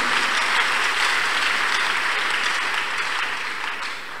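A church congregation claps their hands unto God, a dense, steady roar of applause that fills the whole span and thins slightly toward the end.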